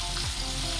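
Dried onion and green chili sizzling in hot oil for Kathiyawadi vaghareli khichdi, a soft steady frying hiss heard close and alone, fairly faint.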